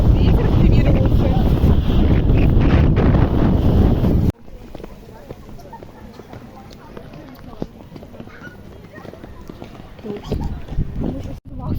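Seaside wind in summer roars loudly against the microphone for about four seconds. It then cuts to a quieter outdoor scene with lighter gusts, scattered knocks and people talking.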